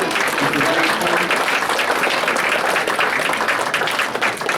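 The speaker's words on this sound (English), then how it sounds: "Can we give a round of applause to Jan and the Bluff for providing us with a great venue" A banquet audience gives a round of applause, dense and loud clapping from many hands sustained throughout, tapering a little at the very end.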